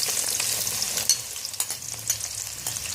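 Onions frying in a cup of hot oil for a kaleji dish with green masala, a continuous bright sizzle with occasional stirring scrapes, close and fairly loud, with no talking.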